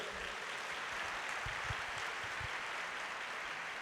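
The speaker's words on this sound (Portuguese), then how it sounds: "Dá um aplauso aí ao Senhor" Faint, distant congregation applause during a family church service, a soft continuous patter of many hands with a few slightly sharper claps, no speech over it.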